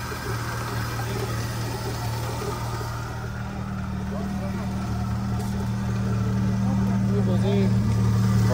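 A Zhiguli car fitted with a Priora engine idles steadily and close by, its low hum and harmonics holding even and growing slightly louder toward the end.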